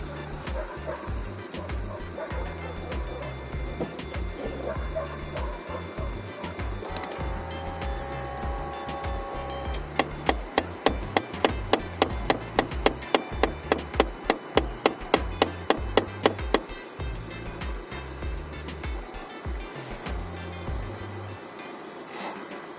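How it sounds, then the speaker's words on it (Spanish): A Renault Trafic van makes a strange noise when the ignition key is turned, heard as a fast, regular run of loud clicks or ticks for several seconds over a steady low engine hum. "Y ahora voy a dar la llave y aunque mete el ruido, veréis cómo sigue funcionando."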